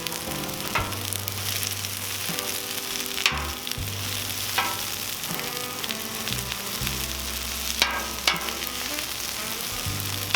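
Peppers frying in vegetable oil on a Cuisinart 360° griddle at medium heat, a steady close sizzle with occasional sharp clicks and scrapes of a spatula stirring.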